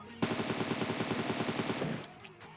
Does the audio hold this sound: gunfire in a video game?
yes